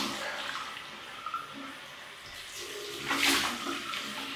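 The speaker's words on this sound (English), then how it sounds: "oh that's nice, cold water rinse." Cold water runs from a tap for a rinse after a shave with a double-edge razor, a soft continuous splashing that grows louder near the end.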